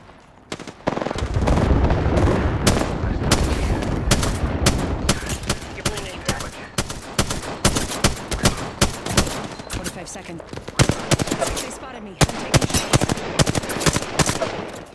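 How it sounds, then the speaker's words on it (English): An airstrike in the Apex Legends video game sets off a long, loud barrage of explosions mixed with dense, rapid gunfire that thins into scattered sharp shots near the end. "Airstrike."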